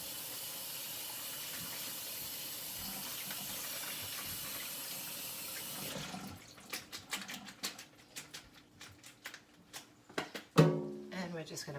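Tap water runs steadily into a kitchen sink over food in a strainer, then gives way to irregular clattering splashes and knocks as the food is rinsed and shaken, followed by a louder bang near the end.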